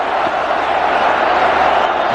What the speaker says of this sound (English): The clapping starts.